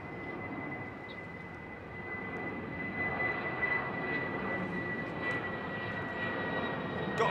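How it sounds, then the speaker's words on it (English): An American Airlines Boeing 777 jet at London Heathrow produces a sustained engine rumble and whine that builds slightly over its length, alone without speech. "American 777."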